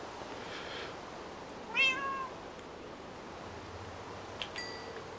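A pet cat lets out a single clear meow partway through, with a faint second call near the end, over a low steady background hum in a quiet room.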